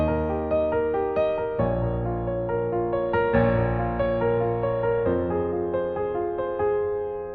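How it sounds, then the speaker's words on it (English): Piano plays a jazzed-up version of a song's chords with flowing arpeggios, steady rippling notes over sustained bass, close and alone with no voices. "So in this example, I played some arpeggios,"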